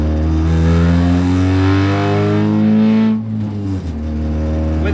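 Mazda Miata engine running with no muffler, loud harsh idle and rev drone close by, rattling bodywork, pitch falling as the revs drop near the end.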